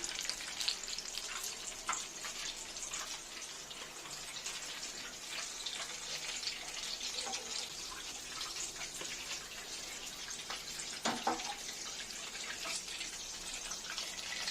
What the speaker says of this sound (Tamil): மீதி எல்லாமே பொரிச்சு எடுத்துடலாம்.